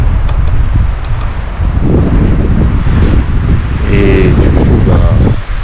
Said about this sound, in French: comme je sais pas si vous m'entendez bien d'ailleurs, et il y a pas mal de vent ici.